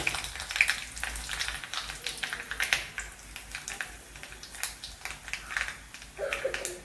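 Dried red chillies and mustard seeds fry in hot oil in a pan, giving a soft, steady crackle with scattered sharp pops and faint clinks.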